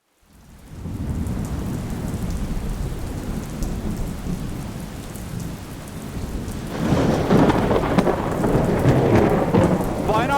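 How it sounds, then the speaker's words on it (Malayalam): Heavy rain pouring down during a storm in Wayanad, a dense steady roar with low rumbling thunder, swelling louder in the last few seconds. "വയനാട്ടിൽ ഇടവിട്ട് അതിശക്തമായ മഴയാണ് പെയ്തുകൊണ്ടിരിക്കുന്നത്"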